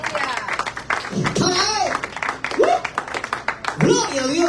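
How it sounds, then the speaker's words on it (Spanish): A church congregation claps in praise during a service, with loud, dense clapping mixed with raised voices and a speaker talking over it. "Un fuerte aplauso a la gloria de Jehová"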